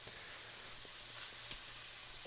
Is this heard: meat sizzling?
yes